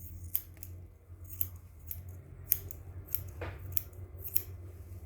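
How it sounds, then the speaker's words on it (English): Scissors snip through hair during a self-haircut, the blades closing in crisp, separate cuts, about seven or eight over a few seconds at an uneven pace, close and fairly loud against a quiet low hum. "Then I will lay my scissors up against my fingers."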